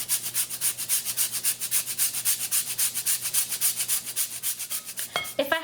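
Steady back-and-forth rasping as a block of unrefined Demerara brown sugar is grated, about twenty even strokes in a regular rhythm, close and fairly loud, ending with a brief clatter.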